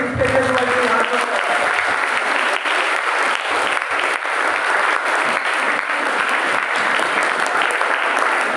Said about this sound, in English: a round of applause for all the police inspectors who are doing hard work